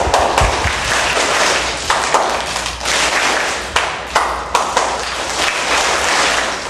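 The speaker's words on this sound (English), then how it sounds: "So I'll clap my hands, you copy with a clap." A storyteller and elementary school children trade hand claps in a call-and-response: loud, close, sharp bursts of clapping arrive in short rhythmic groups separated by brief pauses, with no talking.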